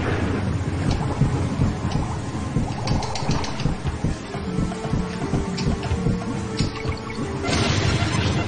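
Thunder cracking and rumbling over steady rain in a lightning stage of the video game Donkey Kong Country, with a heavy rolling boom and water-like patter running throughout.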